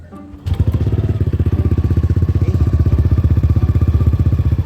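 A small Aerox V2 scooter engine sputters to life and settles into a steady, rapid normal idle, the chugging pulses even and close by.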